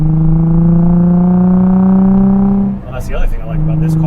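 Car fitted with a Z1 Touring cat-back exhaust pulling hard with a loud steady engine drone, then a gear shift cuts the note briefly before it resumes, with a voice speaking over the shift.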